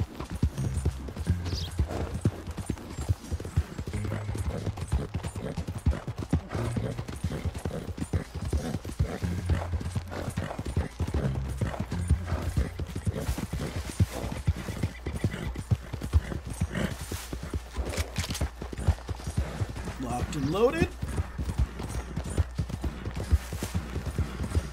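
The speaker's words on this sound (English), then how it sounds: "There's a horse." Horse hooves in the video game Red Dead Redemption 2 clip-clop in a steady, continuous rhythm, fairly close and prominent, with a brief whinny, soft outdoor ambience and occasional faint voices beneath.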